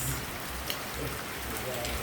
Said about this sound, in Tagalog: Hindi na rin masyadong Malakas yung ulan.